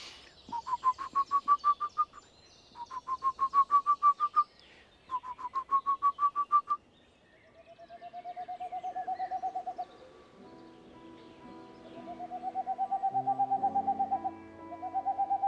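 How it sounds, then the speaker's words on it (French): Soft, ocarina-like owl song: short runs of rapid rising hoots repeated three times, followed by longer smooth mellow whistled notes, fairly close and quiet. "C'est un petit chant doux au timbre d'ocarina qui fait à peu près"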